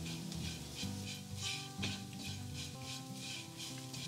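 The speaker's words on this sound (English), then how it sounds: "We're gonna give this a quick saute so that the spices get a chance to mix together." Kashmiri chili, cumin, garam masala and black pepper are sautéed and stirred in a pan, making soft, rhythmic scraping and rubbing strokes with a faint sizzle and a quiet musical tone underneath.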